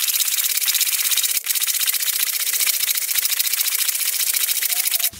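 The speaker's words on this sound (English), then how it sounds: "Now we'll just put our lid on and shake vigorously for up to a minute." Hard cast 00 buckshot rattles inside a lidded container with Eastwood powder coat, making a steady, dense, continuous rolling hiss that stays loud and even, with a brief knock near the end.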